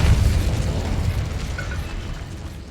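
A spell explodes in the Hogwarts Legacy video game: a loud, deep boom hits at once, then rumbles and fades slowly over a few seconds with no talking over it.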